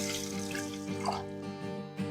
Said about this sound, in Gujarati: તો આપણે તેની અંદર પાણી એડ કરીએ